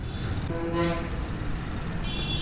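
Busy Chennai road traffic at office rush hour, with a car horn tooting once briefly amid a steady roar of engines and vehicles close by.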